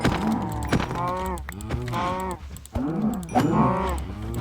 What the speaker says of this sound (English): Please tell me I have some cows.